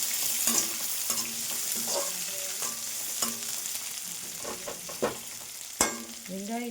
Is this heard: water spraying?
no